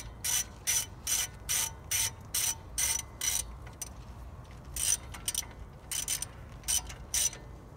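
Ratchet wrench clicking in quick repeated bursts while small wheel hub bolts are snugged down on a 2005 Dodge Ram 1500, with short pauses between runs of clicks and no talking.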